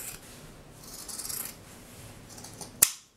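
Scissors slice through a denim jean skirt in a steady run of soft rasping snips, ending with a sharp close click of the blades, all heard near and alone without talk.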